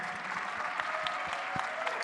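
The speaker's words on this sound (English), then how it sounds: "Let's keep the applause going for our panel members and our moderator." An audience at a community college student leadership summit applauds its panel and moderator, a steady, fairly soft wash of many hands clapping with no letup.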